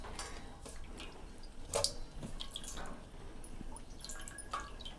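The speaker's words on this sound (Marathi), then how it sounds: "तर ह्याला छान असे अगोदर धुवून घ्यायचे" Okra pods being rinsed in water before cooking, with soft drips and small splashes of water near the sink in a quiet room; there is no talking.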